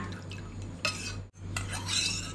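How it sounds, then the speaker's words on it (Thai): A utensil stirs coconut milk and rice flour in a pot over low heat, with soft scraping swishes and light clinks close by, against a steady low background hum. "คนด้วยไฟอ่อน ๆ จนแป้งข้าวเจ้าละลายเข้ากับน้ำกะทิ"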